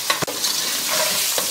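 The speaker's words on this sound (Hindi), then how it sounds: "चलें अब हम भून रहे हैं इसको अच्छा सा, ताकि इसका कलर थोड़ा चेंज हो जाए।" Mutton fries over a high flame for Sindhi biryani, a steady close sizzle with a sharp scrape of stirring near the start and another toward the end.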